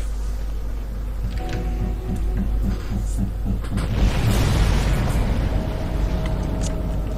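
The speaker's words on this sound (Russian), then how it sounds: "Да, эпичный взрыв." Explosion in the sci-fi horror video game Dead Space: a deep, rumbling boom that builds and swells over several seconds amid throbbing low hum and layered game sound effects, loud and sustained rather than a single sharp crack.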